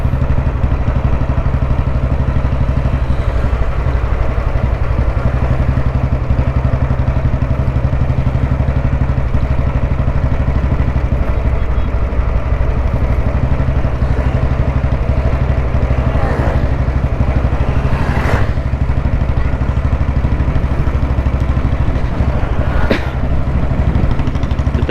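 A vintage Royal Enfield Bullet C motorcycle cruises in top gear, its single-cylinder engine thumping loudly and steadily throughout with a mechanical clatter.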